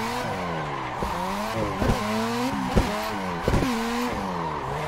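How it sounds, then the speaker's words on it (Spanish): Simulated drift car in Assetto Corsa, an RX7, with the clutch being slipped: a loud, steady engine drone with repeated rising-and-falling rev sweeps and brief tyre-squeal bursts, no talking. "Quemando embrague un poquito."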